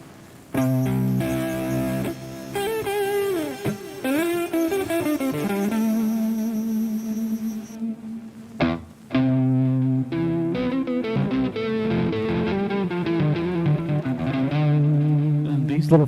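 Electric guitar played through an effects unit adding slight distortion and saturation, sustained chords and melodic notes with a gritty edge, steady and fairly loud, briefly cutting out midway before continuing.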